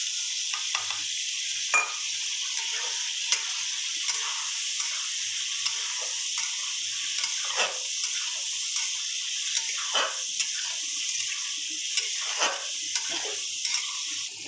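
Ground spice paste of turmeric and bay leaf sizzles in a hot pan for a fish roe fritter curry, a steady bright frying hiss with faint stirring clicks, no talk.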